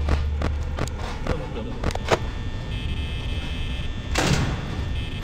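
A security door slides shut in the video game Five Nights at Freddy's, with several sharp mechanical thumps and clanks over a low ambient hum and a brief whooshing sweep near the end.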